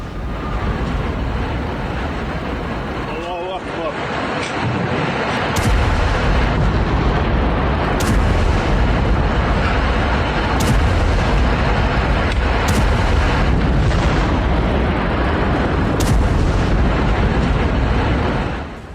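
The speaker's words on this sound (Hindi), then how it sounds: "आईडीएफ ने धमाके के साथ घर को उड़ा दिया।" Demolition blast destroying a house in the West Bank: a dense, sustained rumble of debris and roar fills the whole stretch, with sharp cracks recurring every few seconds over the continuous loud wash.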